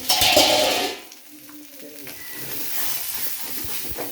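Fish and coriander sizzling in hot oil in a pan, a loud bright fry at first that settles into a steadier crackle, with a few stirring knocks against the pan.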